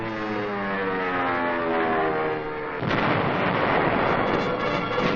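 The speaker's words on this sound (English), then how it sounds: ""200 guns joined the attack." Artillery guns fire in a 1944 wartime newsreel of the siege of Aachen, a heavy continuous rumble of barrage and engine-like roar that grows denser and louder midway, with no speech.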